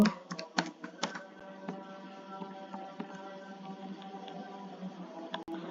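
Fingers tap steadily on a computer keyboard while entering accounting figures, with a quick burst of clicks at first, then sparser keystrokes over a low room hum, close and clear with no talk.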